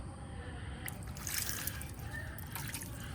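Water splashes and trickles over a car wheel rim as it is rinsed off after cleaning with a wheel hub cleaner, a steady wet spray with brief louder bursts, no voices.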